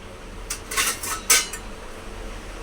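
Dishes and cutlery clink in a few sharp, close bursts as a plate is taken out in a home kitchen while sandwiches are being made, with quiet background and no talk.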